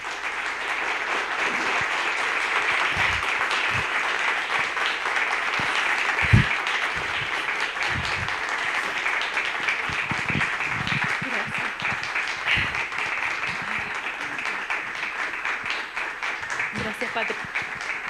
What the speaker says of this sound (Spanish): Y le pido que le den un aplauso.